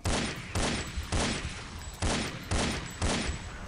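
Pistol fire in the video game Heavy Metal F.A.K.K.2: seven loud, evenly spaced shots, each with a short decaying tail, in a steady rhythm.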